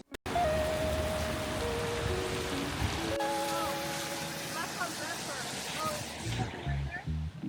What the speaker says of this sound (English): My umbrella's broken, and it's pouring.